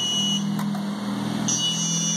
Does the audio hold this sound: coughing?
no